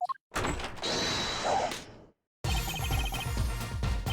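A sliding door swishes open with a mechanical whoosh as a character enters in Apollo Justice, followed by a short silence and then game music.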